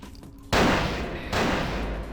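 Two bursts of heavy gunfire from a sniper-rifle shootout in the video game Vampire: The Masquerade – Bloodlines, loud and close, the second volley following shortly after the first with dense crackling sustain.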